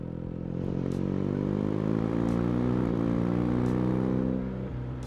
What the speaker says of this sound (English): the actual exhaust sound that you would normally experience when you're sitting on the bike yourself